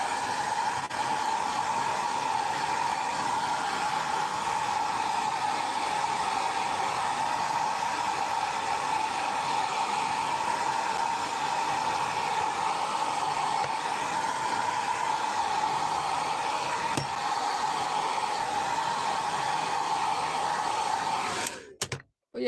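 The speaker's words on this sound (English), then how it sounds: "Put your hairdryer in a very low setting and keep moving the miniature around when you're drying it" Hairdryer set to low heat blows steadily on a 3D-printed Pikachu miniature, a constant close whooshing drone with a tonal hum that cuts off abruptly at the end.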